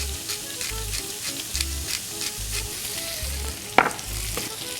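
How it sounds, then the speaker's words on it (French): Chopped onions and garlic sizzle steadily in hot oil while a pasta sauce is started. The frying hiss runs alone throughout, with rhythmic low knocks from stirring and one sharp clatter near the end. "dans notre huile, on va rajouter les oignons hachés, l'ail."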